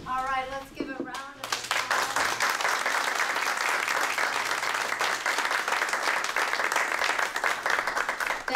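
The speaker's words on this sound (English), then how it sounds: "let's give a round of applause" An audience at a community candidates forum breaks into a round of applause, dense and sustained clapping that follows a short spoken line and carries on evenly to the end.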